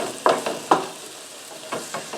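Vegetables fry in oil in a skillet as the base for a meat sauce, with a soft steady sizzle broken by a few sharp scraping stirs close by.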